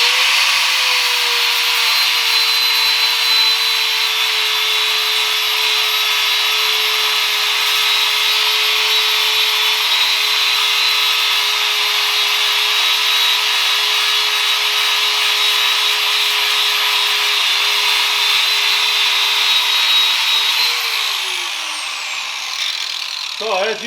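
An electric grinder works on an anvil under repair: a loud, continuous high whine with a steady motor tone that holds nearly constant, then spins down near the end.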